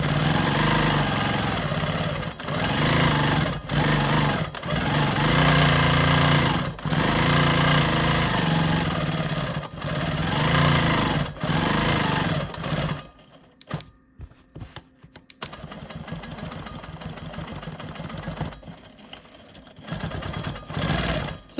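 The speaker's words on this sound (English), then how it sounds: "I'm going to go ahead and free motion quilt in this square." Quilt Maker Pro 20 quilting machine running for free motion quilting, a loud steady mechanical whir with brief stops in the first half, then quieter intermittent running and handling noises.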